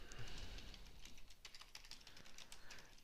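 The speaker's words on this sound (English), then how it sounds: "as I'm typing in text" Fast, light clicking of a computer keyboard as text is typed into an input field, quiet and close, with irregular bursts of keystrokes and no voices.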